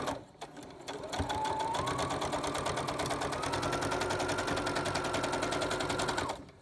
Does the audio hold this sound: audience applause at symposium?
no